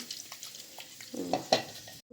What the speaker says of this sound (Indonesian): ini bekas yang ini kita taruh air sedikit, terus kita aduk-aduk biar nggak rugi